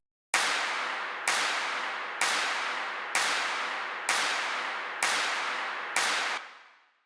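Stadium claps sample in a progressive house track: seven big, bright crowd-clap bursts at a steady beat, each slowly decaying into the next, the last tailing off in a short reverb.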